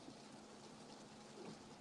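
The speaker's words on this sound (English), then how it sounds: "it's been pouring all day here" Heavy rain pouring outside as a faint, steady wash of hiss and patter, unchanging across the couple of seconds with no voices.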